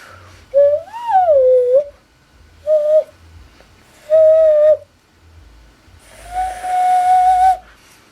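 A clear hand-whistled tone rings out in four bursts, the first bending up and down, the others held steady, the last breathier and longer.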